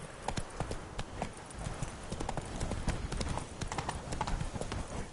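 Rapid rhythmic hoofbeats of a horse galloping in The Witcher 3: Blood and Wine video game, steady clip-clop at moderate volume with faint background game ambience.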